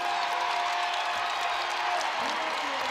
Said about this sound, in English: Yeah, the crowd is loving it.